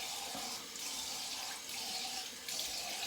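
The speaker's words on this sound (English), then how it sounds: "Do a cold rinse as well." Cold water runs steadily from a tap for a rinse during a razor shave, a close, continuous hiss with brief dips in level and no talking.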